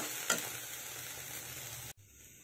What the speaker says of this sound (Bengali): পাতা বাটাটা ভালো করে কড়াইয়ে নেড়ে নিতে হবে